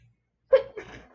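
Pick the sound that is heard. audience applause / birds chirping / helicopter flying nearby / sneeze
sneeze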